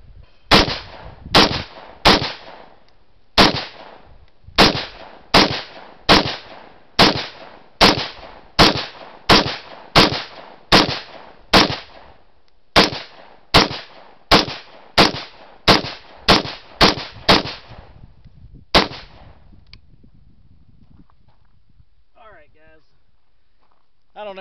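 Rapid semi-automatic 5.56 AR rifle fire striking Chinese body armor: about twenty-five sharp, loud, evenly spaced shots with ringing impacts, ending abruptly, followed by faint rustling.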